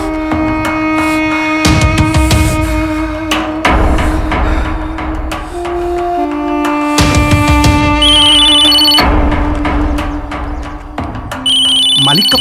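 A telephone rings loudly in repeated bursts inside a scene from a Hindi-dubbed South Indian horror film, with music tones and someone speaking between the rings.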